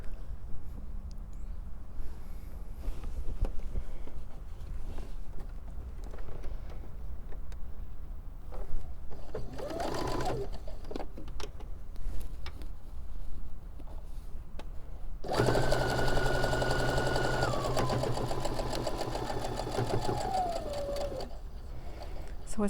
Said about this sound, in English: So I'm just going to sew it end to end.